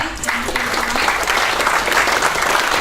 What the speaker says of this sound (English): another round of applause for Pauline coming all the way up here.